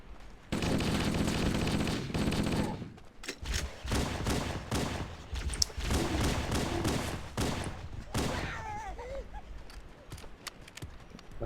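Rapid bursts of energy-weapon fire from a plasma pistol in the Halo video game, loud dense volleys with short gaps, then thinner scattered shots and chirps toward the end.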